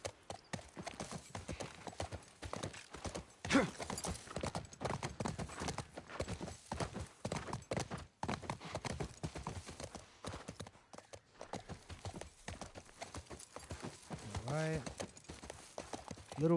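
Horse hooves clip-clopping in the video game The Last of Us Part II, a steady walking rhythm, close and continuous, with a whinny near the end and faint speech-like sounds mixed in.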